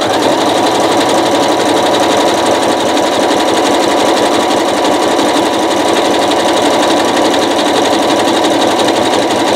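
A sewing machine stitches rope into a coiled rope bowl, running loud and close with a steady, rapid mechanical chatter that carries on without pause from start to finish.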